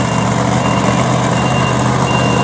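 Monster truck lining up at Southern National Motorsports Park, a steady loud engine drone with a repeating reversing beep tone running throughout.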